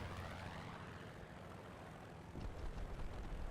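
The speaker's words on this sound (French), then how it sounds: "j'entends un avion qui arrive" A propeller airplane approaches in a multiplayer war video game, a faint, distant engine drone that grows louder near the end, with no voices over it.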